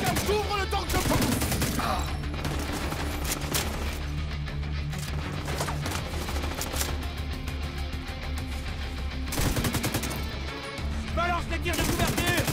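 Heavy, sustained gunfire from The Division 2 video game: continuous rapid bursts and crackling shots from cover, loud and dense throughout with brief gaps, mixed with game effects and players talking over it.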